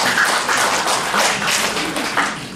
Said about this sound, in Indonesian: Jadi perlu aplaus dulu lah.